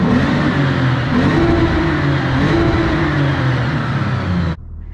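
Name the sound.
car engine revving in a garage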